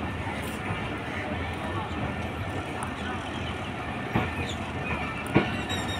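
Train wheels clatter and rumble steadily as the Khyber Mail pulls out of Bahawalpur railway station, with a couple of sharp metallic clanks near the end and a voice talking over the noise.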